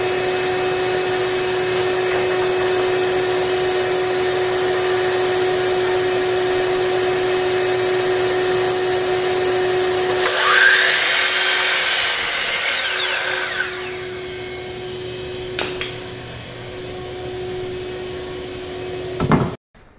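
A power saw trims a split end off a wood board, starting about halfway in as a loud, bright burst of cutting over a steady machine whine that runs throughout, then settles back to the hum before stopping.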